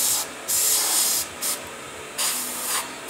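An airbrush sprays paint in short bursts onto a reproduction walleye fish head, four hissing sprays of varying length with a faint background hiss between them.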